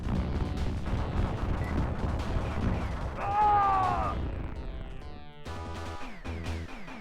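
Arcade shooter Guerrilla War fires off bursts of gunfire and booming explosions under game music and chiptune effects, with a rising electronic tone midway and a stretch of descending tones near the end.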